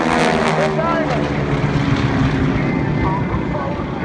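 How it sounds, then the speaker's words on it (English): Loud, steady roar of 600-horsepower Pratt & Whitney radial engines on aircraft flying diamond formation at an air show in Houston, a continuous broad drone holding throughout with a faint voice over it. "And listen to the roar of these 600 horsepower engines"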